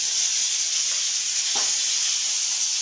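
Tadka tempering spices sizzle steadily in hot oil with a bright, constant frying hiss, stirred once partway through.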